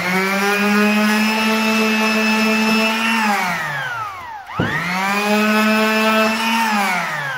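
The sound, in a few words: power sanding wood for distressed antique look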